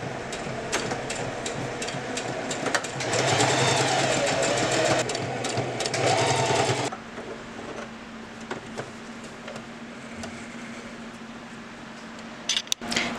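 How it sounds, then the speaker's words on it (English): Sewing machine stitching a straight seam along both sides of a fabric bag, a fast rhythmic mechanical whir that swells loud for a few seconds and then continues at a quieter hum, close by. "And then you're just gonna sew right here along that line on both sides."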